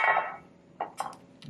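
Food dumped into a baking pan while preparing an oil-free plant-based meal, with salsa mixed in: a few short soft clattering bumps and scrapes, moderately near, with a brief pause between them.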